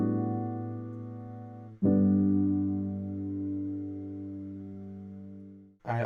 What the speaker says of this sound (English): I added a piano. Sounds like this.